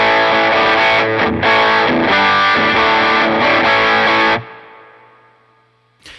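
Distorted electric guitar driven through an Ibanez TS9 overdrive pedal in a mono effects loop, strumming thick sustained chords for about four seconds before the sound cuts off and a faint tail rings out alone.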